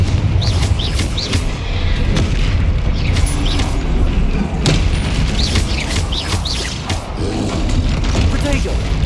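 Spell blasts in the Hogwarts Legacy video game, with repeated booming explosive impacts over a busy battle mix with chirpy magical effects, loud and dense, while a voice speaks during the fight.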